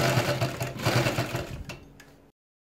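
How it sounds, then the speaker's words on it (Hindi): A sewing machine stitches piping on a front neckline, a quick rhythmic whirring run close by that slows and stops after about two seconds. "इसको हम सिलाई लगा लेंगे हम"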